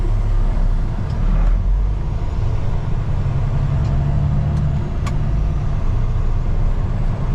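A semi truck hauling a tanker of liquid hazardous materials rumbles steadily along the road, with continuous low engine drone and road noise from inside the cab and no talking.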